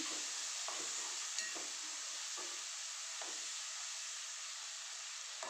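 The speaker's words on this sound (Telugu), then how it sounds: "టమాటా వేసేసుకొని ఇప్పుడు ఇది మిక్స్ చేసేసుకుందాం" Tomato is stirred into a hot masala in a pan for egg fried rice, a soft continuous sizzle and hiss with faint periodic scraping strokes, quiet and steady.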